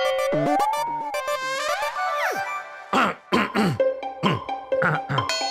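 A voice makes a long run of exaggerated throat-clearing noises, rasping and gurgling with rising and falling pitch, close and loud.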